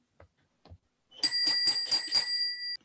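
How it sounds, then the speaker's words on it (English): A small hand bell rings repeatedly in a series of bright, steady strokes for over a second, loud and close, after two faint knocks, in a Sherlock Holmes stage setting where a bell summons a servant. "your boy doesn't answer the bell"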